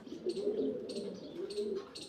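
Pigeons coo in low, rolling calls repeated twice over a short stretch, close and soft, with faint higher chirps between.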